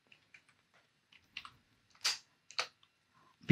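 Scattered key clicks from typing on a computer keyboard while entering numbers in Excel, sparse taps with a few louder strokes, close and quiet with no talk.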